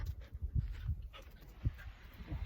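A dog pants in quick, rough breaths close by, with faint whimpering mixed in, over a steady hiss.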